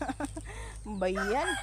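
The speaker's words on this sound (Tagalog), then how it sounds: "Ayan yung manok ko. Tumatalaok siya." A pet rooster crows up close, a rising and falling call following a few short clucks, with a brief spoken word near the start.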